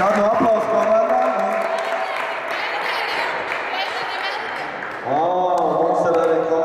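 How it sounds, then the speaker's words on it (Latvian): An indoor audience at a spring youth basketball tournament applauds the teams, sustained clapping and crowd noise that dips midway and then swells again, with a voice over it toward the end. "Kādu aplausu komandām?"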